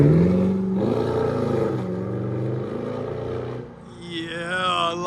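Bumblebee yellow Chevy Camaro SS with a 6.2L V8 and aftermarket exhaust idling with a deep, steady rumble close by, easing briefly before a rising whine near the end.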